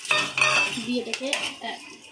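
A spoon scraping and clinking against a metal cooking pot while whole spices and bay leaves are stirred, several quick close metallic knocks and scrapes in a short burst.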